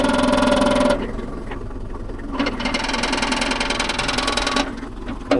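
A Mahindra Yuvo Tech Plus 585 DI 4WD tractor runs with its PTO engaged, giving a steady, close mechanical drone with a rapid knocking rhythm; the level dips briefly after the first second and then holds fairly even.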